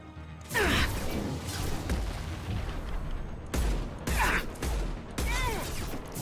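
Gunfire in Mass Effect 2 during a suppressive-fire squad order, with repeated loud bursts of shots, crashes and booms arriving in several clusters, and a voice heard faintly between them.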